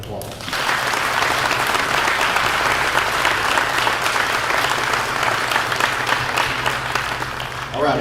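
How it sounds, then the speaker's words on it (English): Sustained, dense applause from an audience at a county Republican Party sheriff candidates forum, filling the room steadily for several seconds with a low hum underneath and scattered voices mixed in. "Let's give all these candidates a round of applause."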